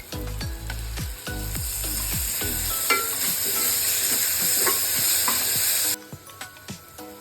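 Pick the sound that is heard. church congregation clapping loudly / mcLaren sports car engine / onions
onions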